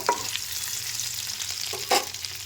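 Ginger paste sautés with spices over fried potatoes in a pan, a soft sizzle punctuated by two or three brief scraping stirs, close up and fairly quiet, with no talking.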